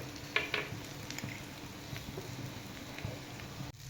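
Okra fries in a pan with a steady, quiet sizzle and soft crackle, with a few small stirring taps and scrapes close by, no talking over it.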